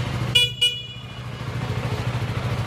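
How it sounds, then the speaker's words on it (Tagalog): Two short, bright honks from a CFMoto 300SR motorcycle horn in quick succession, over a steady low engine idle. "Busina."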